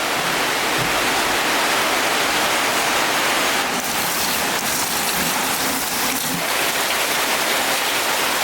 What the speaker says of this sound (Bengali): রান্না করতে করতে বৃষ্টি চলে আসলো